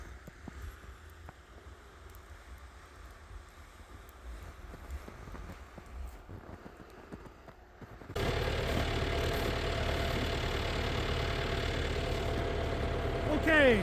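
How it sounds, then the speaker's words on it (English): A farm tractor's engine idles while warming up outdoors, a low steady rumble that is faint and wind-buffeted at first, then turns much louder and closer halfway through, with a brief rising tone near the end. "Okay, tractor should be warmed up pretty good."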